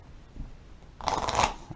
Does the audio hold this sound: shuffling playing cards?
yes